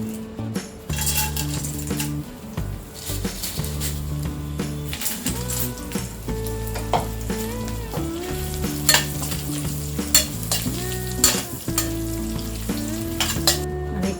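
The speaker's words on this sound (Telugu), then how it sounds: "అదే ప్యాన్లో ఈ కార్న్ఫ్లేక్స్ ఫ్రై చేద్దాం." Cornflakes fry in a pan while they are prepared for a puffed-rice murmura chivda, with a steady close sizzle, clinks of a spoon or spatula on the pan, and busy stirring scrapes running through the whole stretch.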